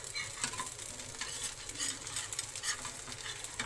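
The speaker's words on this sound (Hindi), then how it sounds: "इसमें हम फिर से ऑयल डालेंगे और इसको हल्के हाथों से धीरे धीरे छुड़ा लेंगे साइड से" Semolina cheela sizzles steadily in hot oil on a pan. The frying hiss stays loud and close for the whole stretch, with no voices.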